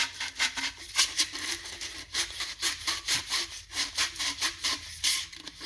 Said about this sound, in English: So I'm going to start out with my 100 grit sandpaper.